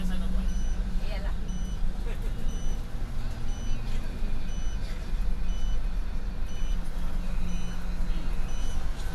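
A bus sounds steady, evenly spaced reversing beeps in the busy pilgrim area at Jabal Uhud, Madinah. The beeps repeat at a regular pace under heavy vehicle and crowd noise.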